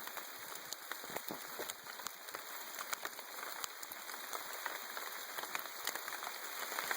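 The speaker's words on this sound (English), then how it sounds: "it's starting to rain as well" Rain falls in the woods as a dense, steady patter of drops on leaves and surfaces, with sharper individual hits scattered throughout and a continuous high insect drone behind it.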